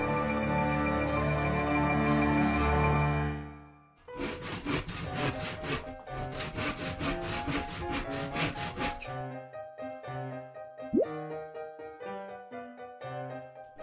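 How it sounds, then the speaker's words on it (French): A wooden panel is sawn in a set-building workshop. Rhythmic, close strokes rasp back and forth over a few seconds, set among other workshop sounds and tonal ringing. "C'est un simple panneau de bois qui va être scié,"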